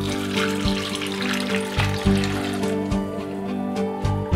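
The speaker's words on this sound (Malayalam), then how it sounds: "പിഴിഞ്ഞെടുത്ത് വെച്ചിരിക്കുന്ന 2-ാം പാലും 3-ാം പാലും ഇതിലേക്ക് നമുക്ക് ഒഴിക്കാം." Second and third extracts of coconut milk pour into a pot for Kerala payasam, a loud, close, gushing flow that pulses unevenly over a low hum.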